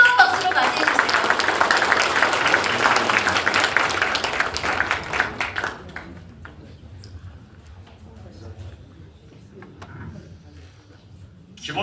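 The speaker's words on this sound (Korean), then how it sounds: "뜨거운 박수로 맞이해주세요." Applause fills a hall for a politician welcoming him to a Basic Society Committee launch event at the Jeju Chamber of Commerce, loud and dense for about six seconds before thinning to scattered claps and murmuring voices.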